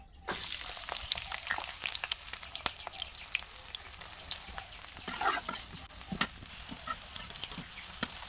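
Sliced eggplant rounds frying in oil in a wok, a steady close sizzle and crackle with sharp spatters and stirring scrapes throughout, no talking.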